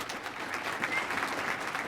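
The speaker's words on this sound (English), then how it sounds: "if we could all give a round of applause to Mr. Ozzy Slaughter" An audience claps to welcome a speaker onto a stage, a steady, dense burst of applause filling the whole short stretch without a break.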